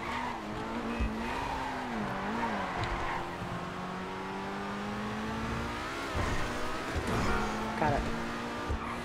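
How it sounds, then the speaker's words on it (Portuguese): Pegassi Reaper supercar in GTA V accelerating hard, a sustained engine whine rising and shifting in pitch with tire squeal accents, steady and fairly loud under someone talking. "já deu pra perceber que o carro tem uma aceleração sinistra"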